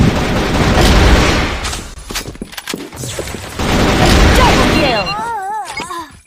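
Rapid automatic gunfire in the CrossFire Legends shooter game comes in two long, dense bursts separated by a brief lull, followed by warbling electronic tones near the end.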